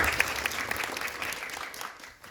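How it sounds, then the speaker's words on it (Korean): Audience applauding at a film premiere screening at COEX in Seoul, a dense steady wash of clapping from a full room that tapers off slightly toward the end. "좀 그분에게 박수 좀."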